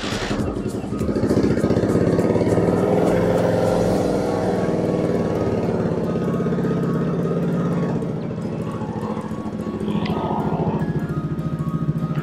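A Kawasaki Rouser NS160Fi motorcycle engine runs close by after a kickstart with a steady, throbbing idle, rising briefly in intensity before settling into a constant rumble.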